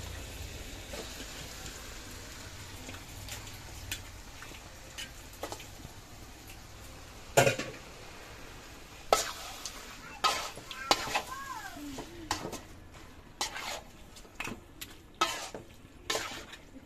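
Chicken pieces dropped into spiced masala in a pan on a rainy day, a steady background sizzle broken by irregular loud scrapes and clatters of stirring, with brief faint talk.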